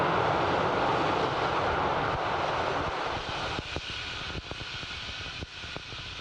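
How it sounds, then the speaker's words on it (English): A Falcon 9 rocket first stage fires its landing burn for a Vandenberg landing, heard as a broad, steady roar that slowly fades and gives way to scattered sharp crackles and thumps. "the landing burn has begun for the Falcon 9 first stage"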